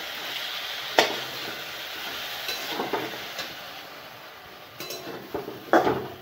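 Potatoes with turmeric are stirred in a pan: soft scraping and light clinks of a spoon against the pan come in a few scattered strokes over a faint, low background hiss, fairly quiet and close.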